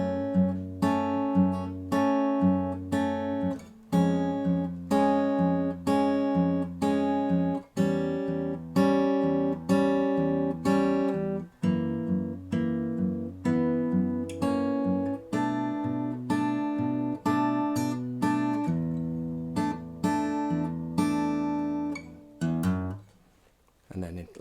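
Acoustic guitar playing the chorus of a song, steady fingerpicked notes and chords ringing clearly and evenly for about twenty seconds before fading, with no voice.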